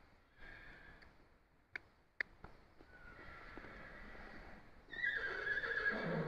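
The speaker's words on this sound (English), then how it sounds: "She's a Tennessee walking horse." A Tennessee walking horse mare whinnies during a riding lesson, a faint drawn-out neigh building and then swelling louder near the end, with a couple of sharp ticks and soft hoof sounds around it.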